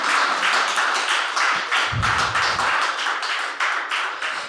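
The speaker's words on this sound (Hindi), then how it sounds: "टीआरडी के इस मंच के लिए एक बार जोर से तालियां बजाकर अपनी उपस्थिति दर्ज कराइए" Applause from the audience at a TRD poetry recital stage, sustained and dense with many hands clapping, steady and fairly loud throughout, briefly joined by a low rumble partway through.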